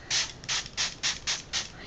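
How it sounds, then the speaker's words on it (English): Color Bloom spray paint is sprayed onto wood in six quick, evenly spaced hissing bursts, quiet and close with short gaps between them. "I'm just going to spray it."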